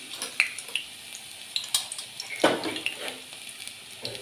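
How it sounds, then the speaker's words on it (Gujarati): Garlic crackling in hot oil for a Kathiyawadi-style khichdi tempering makes soft, irregular pops and spits, mixed with close clinks of a spoon against the pan. "એના માટે આપણે તેલમાં લસણ કકડવા મૂકી દઈશું"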